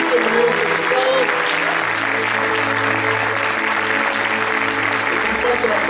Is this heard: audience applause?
yes